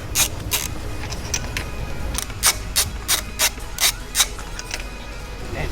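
A ratchet with a 5/8 spark plug socket clicks in short, uneven strokes while the four spark plugs come out of a Fiat 500 Abarth engine during servicing, close and moderately loud over a steady background noise.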